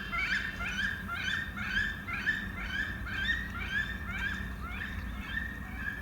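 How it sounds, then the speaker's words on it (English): Wood duck calls repeat at the edge of a Pioneer Valley forest habitat, a series of rising squeaky notes at a steady rhythm over a low background hum. "This is the wood duck."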